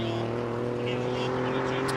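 An Alfa Romeo in normal drive mode runs at the Simola hill climb, its engine giving a steady, loud drone with strong harmonics throughout, while a voice talks over it.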